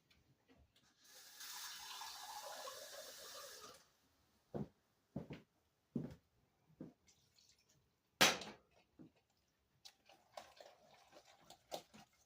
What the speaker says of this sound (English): I'll have to add some water to that